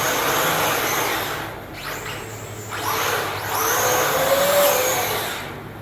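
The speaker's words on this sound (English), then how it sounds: "you can hear this car clicking and making some bad noises" A car with a torn-up, failing gear runs with a broad, grinding mechanical drone and rough, uneven noise that swells and dips, steady and fairly close with no voices.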